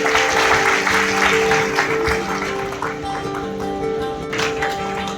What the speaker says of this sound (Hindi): तो एक बार बच्चियों के लिए ताली बजा दीजिए।